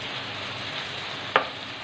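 Cubed boneless chicken frying in a pan for a stovetop pizza topping, a steady broadband sizzle throughout with a single sharp utensil click near the end, no talking.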